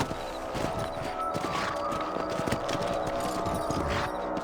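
Horse hooves clip-clop in a steady, rhythmic gait over a continuous tonal background, moderately loud and close, in the video game Red Dead Redemption on PC.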